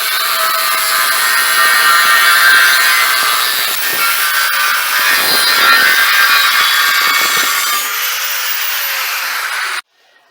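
Steady, harsh hacksaw-style sawing through a 3-inch steel angle iron, loud and close, with a bright metallic ringing rasp that runs continuously for about ten seconds before stopping abruptly.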